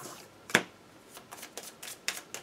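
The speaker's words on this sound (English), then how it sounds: "We shuffle the hit location deck." A hit location deck of cards being shuffled for the Kingdom Death Monster board game: a sharp riffle burst, then several softer quick riffles and taps, close and fairly quiet with no voices.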